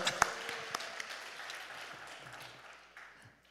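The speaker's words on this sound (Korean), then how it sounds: "목사님 나오실 때 할렐루야로 하나님께 영광의 박수 올려드립니다" Congregation in a church applauding as the pastor comes forward, a broad wash of clapping that starts with a few sharp claps and slowly fades over a few seconds, with faint voices mixed in.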